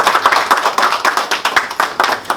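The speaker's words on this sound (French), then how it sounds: "il faut applaudir Ali Deli parce qu'il a eu son prix" Audience applause after an award is announced at a Tunisian association address, a steady burst of dense, close clapping from many hands with no voices.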